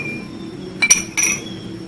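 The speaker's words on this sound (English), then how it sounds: "and stirring it well." A spoon stirs sugar in a glass with two quick, bright metallic clinks against the rim, close and clear over a faint room hum.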